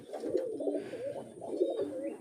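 Pigeons roaming loose outdoors, soft repeated throaty cooing from several birds close by, rising and falling in a continuous murmur.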